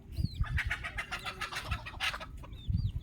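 Chickens and chicks on a native village poultry farm cluck and peep close by, with several bird calls overlapping in a busy, continuous stretch.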